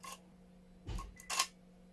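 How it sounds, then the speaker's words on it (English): Two mechanical shutter clicks from a Nikon Z5 camera, loud and close, about half a second apart, over a faint steady hum. "I hope you heard the shutter then. It's fairly loud and it's quite big."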